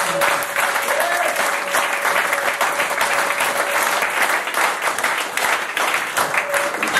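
A church congregation at a 2013 New Year's Eve service applauds the Lord, a dense, steady wall of clapping that fills the room for the whole stretch with no break.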